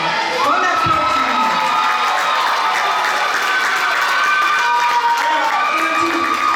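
An audience at a Miss 15-17 pageant in Martinique applauds and cheers loudly and steadily, with shouts and high-pitched youthful yells rising over a dense wash of clapping.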